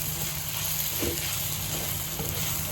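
Spices sautéing in hot oil for a homestyle Kerala chicken curry give a steady, even sizzle with faint stirring clicks, close and moderately loud throughout with no voices.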